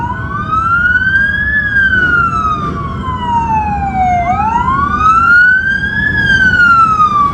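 A Plattsburgh City Police car leads a parade, its siren wailing loud and close, sweeping slowly up and down in long rising and falling tones over a low rumble of engines.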